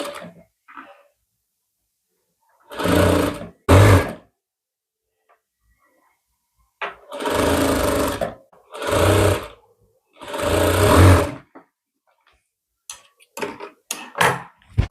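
Sewing machine stitching a folded band neck collar on a lined suit, running in several loud bursts of a few seconds each with short pauses between, then a flurry of quick short runs near the end.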